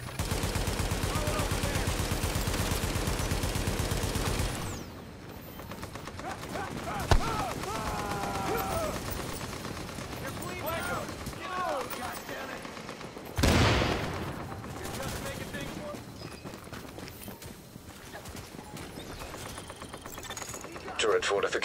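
Gunfire rattles around a turret fortification in The Division aboard an aircraft carrier, loud continuous bursts for the first few seconds, then scattered shots and a sharp blast mixed with game sounds and voices.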